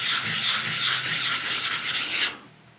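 A whetstone for knife sharpening is lapped flat, raising slurry, with a continuous close gritty rubbing that stops abruptly near the end, leaving faint quiet.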